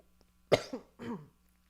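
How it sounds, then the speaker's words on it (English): Several sharp coughs after wine went down too fast, three close bursts in about a second, loud and near, with no talk. "now I keep coughing, and it's I drank it and it just went down too fast"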